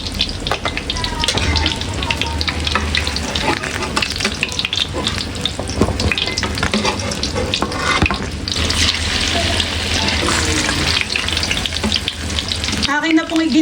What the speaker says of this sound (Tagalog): Ako po ngayon ay nagpiprito na po ng ating tokwa.